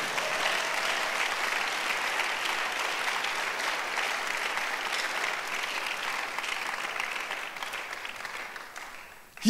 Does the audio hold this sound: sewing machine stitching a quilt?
no